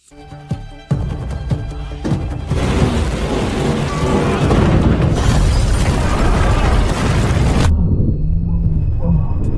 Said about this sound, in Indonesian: di sana sudah disiapkan sebuah bom yang akan meledak